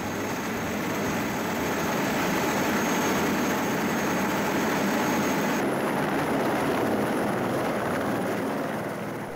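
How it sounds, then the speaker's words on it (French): A steady, loud aircraft roar with a broad rotor-like rumble, continuous throughout as a helicopter passes nearby, no voices. "Puis l'hélicoptère, le fidèle serviteur de la mission, fait un dernier tour d'honneur"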